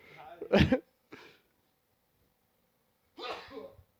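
A single sharp sneeze, close and fairly loud, followed by a short sniff, then a pause before a brief burst of speech.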